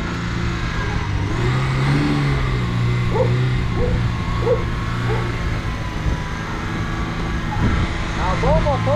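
A car engine revving and holding high throttle up close while people talk and shout over it.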